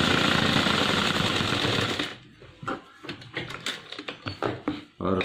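A sewing machine stitches the belt of a gents' formal pant: a dense continuous whir at first, then stops and gives way to quieter handling and short bursts of stitching.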